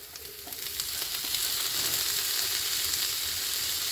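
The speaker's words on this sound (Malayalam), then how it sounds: "തക്കാളിയും കൂടി ചേർത്ത് നന്നായിട്ടൊന്ന് വഴറ്റിയെടുക്കാം." Onion and tomato sauté in a hot pan for a prawn roast, a steady, dense sizzle that grows slightly louder and holds evenly throughout, close up with no voices.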